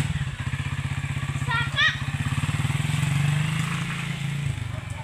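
A motorcycle engine runs close by with a steady, rapid chugging beat that holds throughout, while a voice briefly sounds over it.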